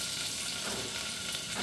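Small pieces of fresh or dried coconut fry in plenty of hot oil, giving a steady, close hiss of sizzling that holds evenly throughout with no talking.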